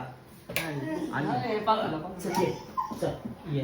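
A puppy whimpering and yipping in short, high cries over steady human chatter close by, with a few sharp clinks in the background.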